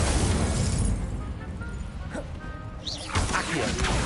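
Incendio fire spell cast in Hogwarts Legacy, a bursting crackle and whoosh of flame that swells near the end, over continuous game noise and background ambience.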